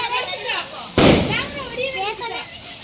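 A Diwali firecracker bursts at night with one sharp loud bang, under children's and adults' excited chatter before and after.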